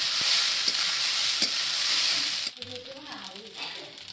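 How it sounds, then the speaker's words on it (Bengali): Cooked rice stir-fried in a hot pan, a loud, steady sizzle for a couple of seconds, then a quieter crackle with scraping and a voice speaking over it. "সুন্দর করে ফ্রাই করে নেব।"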